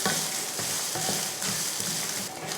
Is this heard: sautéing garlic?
yes